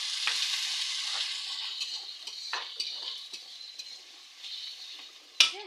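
Onion and whole garlic cloves fry in oil for khichuri, a bright steady sizzle up close, with soft spatula scrapes throughout and a sharp metallic clink near the end; nobody speaks.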